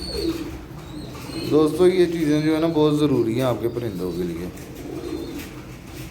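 Pigeons drinking aloe vera water, with soft cooing bird calls faintly heard beneath someone talking over them throughout.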